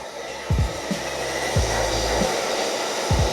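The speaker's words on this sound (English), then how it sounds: "Get the trusty old heat gun out, and I think this stuff will come off." A heat gun blows a steady stream of hot air at moderate volume, with several brief low thumps of handling breaking through the hiss.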